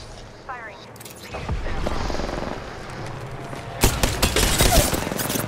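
Apex Legends gunfire rattles in quick bursts and volleys during a match, mixed with game effects, a louder cluster of shots near the end.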